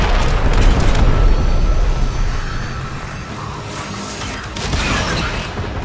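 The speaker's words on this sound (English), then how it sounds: "Let's go use the main cannon right here." The Railjack main cannon in Warframe fires at an enemy airship, a loud continuous rumbling roar of booms and mechanical blasts that swells, eases briefly, then surges again.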